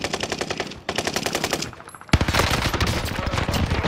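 Rapid automatic gunfire in Call of Duty: Modern Warfare battle royale, heard as close, loud rattling bursts with a short pause, then a denser continuous volley.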